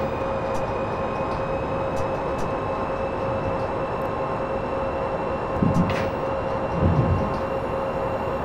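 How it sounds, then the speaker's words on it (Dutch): A Deutsche Bahn BR-103 electric locomotive runs in Train Simulator 2017, giving a steady rumble of rail travel with a constant whine. A couple of brief heavier clunks come midway, and no one speaks. "Thijs, wat ik de mooiste trein vind van de Deutsche Bahn. De BR-103"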